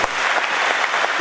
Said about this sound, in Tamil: எல்லாருக்கும் சேர்த்து நம்மளாம் ஒரு வாட்டி நல்லா கைத்தட்டிடலாங்க